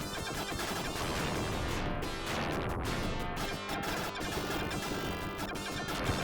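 Explosion effect from a SEGA Genesis video game, a dense, harsh crashing burst of noise sustained for several seconds at steady loudness, with rapid crackling bursts layered through it.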